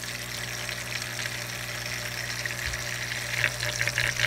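An aquarium filter starts up, drawing in water with a steady buzzing hum under a watery, gurgling hiss, the bubbling growing slightly busier toward the end.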